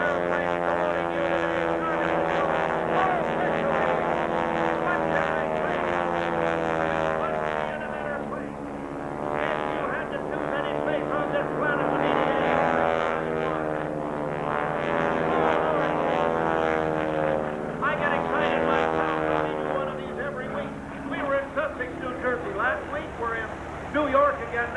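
A 3,000-pound propeller airplane drones steadily overhead during an aerobatic routine at an air show, its pitch rising and falling as it pulls up and over, while an announcer talks continuously over a loudspeaker.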